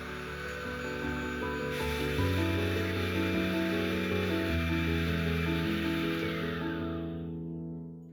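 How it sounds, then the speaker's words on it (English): An electric mixer blending a DIY anti-aging cream, a steady whirring motor hum with layered tones that shifts pitch partway through, then winds down and fades out at the end, alone without talk. "Blend everything together using a mixer."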